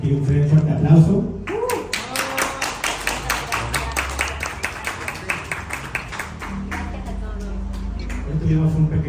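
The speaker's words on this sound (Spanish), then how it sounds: "para que tire un fuerte aplauso" Audience at a live Spanish-language talk show on paranormal and spiritual topics breaks into loud, dense applause, a steady run of sharp claps lasting several seconds, with voices at the start and end.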